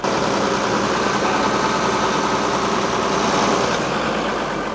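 A fire truck's heavy engine idles steadily as it warms up, a loud, even low rumble with constant vibration and no change in pace from start to end.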